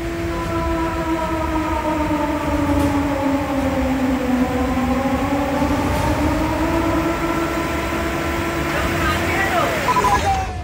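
A loud, wailing siren rises and falls in long sweeping tones, sustained over steady background rumble.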